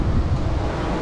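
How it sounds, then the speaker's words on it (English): Strong wind on a steep hilltop hiking trail at Wilsons Promontory roars and buffets the microphone in a loud, continuous low rumble with no voices. "It's very windy up here, different climate"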